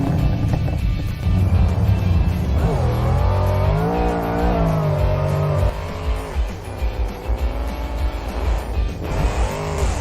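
A cartoon monster truck's engine revs up and roars steadily as it drives faster, a loud continuous rising and falling engine sound with tire noise, close and prominent throughout.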